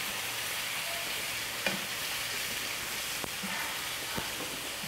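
Shrimps and king size prawns fry in a hot pan with a constant close sizzle, broken by a few light knocks and stirring clicks, with no voices.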